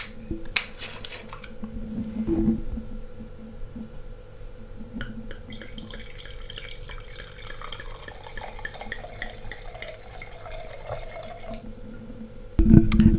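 Red Merlot wine poured over a bed with white sheets, heard as a thin, steady liquid trickle with light splashing and a few clinks of glass, fairly quiet and alone, ending with a louder knock.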